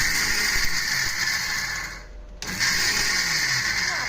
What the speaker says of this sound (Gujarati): તો હવે શીંગને આપણે મિક્સરની જારમાં ક્રશ કરી લેવાની છે.